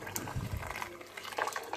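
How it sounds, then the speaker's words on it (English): Hot tap water running into a saucepan in a home kitchen, a steady splashing rush with brief bubbly surges, close and moderately loud, no talking. "you've got to fill the pan up with water"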